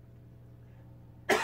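A single short, sharp cough breaks out near the end after a low steady hum, during a workshop session restoring a Williams Terminator 2 pinball machine.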